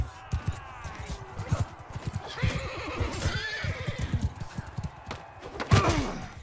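Horses gallop during a Mount and Blade Bannerlord battle, with rapid clip-clop hoofbeats, snorts and whinnies close by, plus someone talking intermittently over the action.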